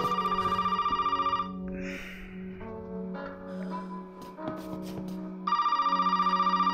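An in-game telephone rings in Resident Evil 7 biohazard, a steady electronic bell that pauses in the middle while other game sounds play, then starts ringing again, heard at moderate volume.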